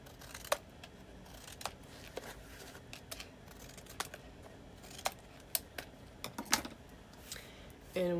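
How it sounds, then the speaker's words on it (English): Scissors snip small triangles off the corners of paper, making a series of crisp, separate cutting clicks spaced irregularly over several seconds, close and quiet, with faint paper rustling. "we're just going to cut off the little triangles from each cut corner"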